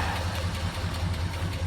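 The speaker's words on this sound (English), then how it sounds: "The engine's running great." Chevelle engine idling steadily with a low, continuous rumble and faint lifter tick, heard close up with no talking and some wind noise.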